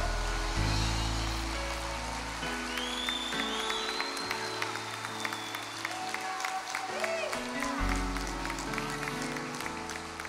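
A church congregation applauding during a service, sustained clapping and crowd noise under held organ or keyboard chords, with a voice speaking over it at times.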